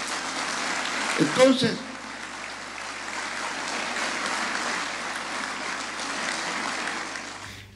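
Audience applause rolls on as a steady, fairly even wash of clapping after a brief spoken word near the start, lasting several seconds at moderate loudness.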